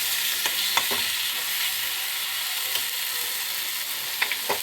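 Spice paste frying in oil for a stuffed pointed gourd dish, a steady soft sizzle with scattered clicks and scrapes of stirring, close and fairly quiet.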